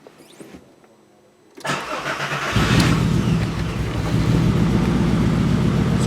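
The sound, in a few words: 2002 Volkswagen Jetta VR6 engine starting up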